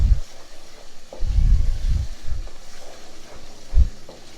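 Chilies and onions hit a hot pan while cooking baingan bharta, giving a near, loud burst of low sizzling and stirring that swells and fades in several bouts, with short clatters between.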